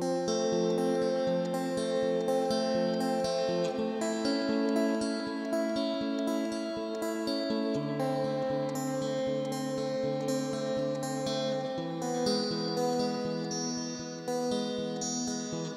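A recorded electric guitar part plays back in a steady, dense layered figure of repeated rhythmic notes with a bright, effected tone, continuous for about sixteen seconds with no talking.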